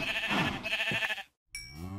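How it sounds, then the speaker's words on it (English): Sheep in the Minecraft video game bleating twice, clear harmonic game-sound bleats separated by a short silence, close and alone without talk. "Kill three sheep!"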